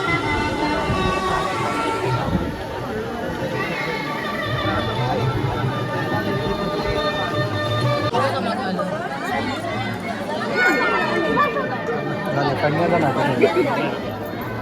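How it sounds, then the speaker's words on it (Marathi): Dense crowd chatter fills a village wedding feast in Karbude, Konkan, a steady close babble of many overlapping voices with occasional louder calls, continuous throughout. "गर्दी खूप आहे."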